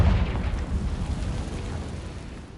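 A Confringo fire spell explodes in Hogwarts Legacy, a loud low boom that opens strongly and rumbles away over about two seconds, with no voices.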